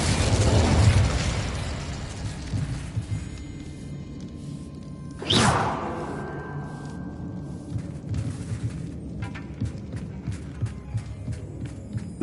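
A fiery Incendio spell bursts in Hogwarts Legacy, burning away spider webs in one sudden loud whoosh and crackle partway through, set against a low throbbing game ambience.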